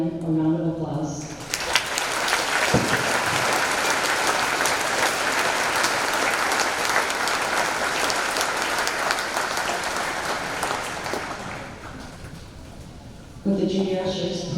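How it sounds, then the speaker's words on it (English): A crowd at a 2024 high school graduation ceremony breaks into sustained, loud applause that fades out after about twelve seconds, with a speaker's voice briefly heard before and after the clapping. "Please join me in giving them a round of applause."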